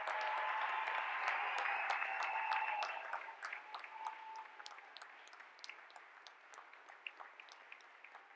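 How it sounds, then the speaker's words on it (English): At a naval graduation ceremony, the audience applauds the graduates: a full burst of clapping that thins after a few seconds into scattered individual claps, faint and somewhat distant in a large hall. "Please join me in a round of applause for all our graduates today."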